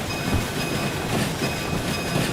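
Steam train rolling along a line in the railway simulator game Derail Valley, a steady broadband rumble and rush of wheels on track with faint rhythmic clatter throughout, no voices.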